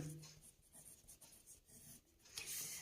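Pen or chalk writing out a determinant problem during a maths lesson, faint scratchy strokes in short bursts, quiet and close, with no voice over it.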